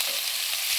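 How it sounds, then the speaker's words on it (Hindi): Paneer frying in a pan makes a brief, steady, close hiss of sizzling oil with no voices. "अभी हम इसको थोड़ा सा 5 मिनट तक फ्राई करेंगे ताकि लाइट ब्राउन कलर का हो जाए।"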